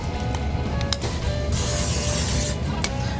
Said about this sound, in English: I'm gonna spray my pan just a little bit.